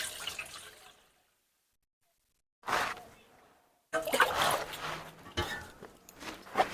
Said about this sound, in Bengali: আমগুলো কাটার জন্য বাটিতে জল দিয়ে দিচ্ছি।